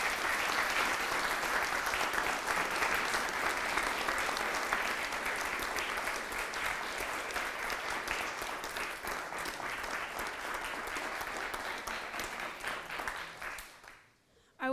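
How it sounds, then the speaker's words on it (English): Sustained audience applause fills a conference paper session in a recital-hall setting, dense steady clapping that holds for about thirteen seconds before cutting off abruptly into near silence. "Let's give a round of applause to Mr. Bullock."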